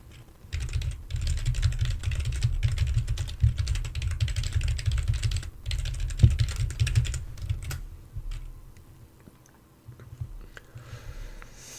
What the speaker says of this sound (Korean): 타자 한번만 칠게요.